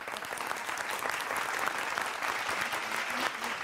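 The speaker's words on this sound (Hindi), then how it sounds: "ताली बजाओ एक बार।" An audience at a live comedic poetry show claps in a dense, even round of applause, sustained and fairly loud throughout, with no distinct voices.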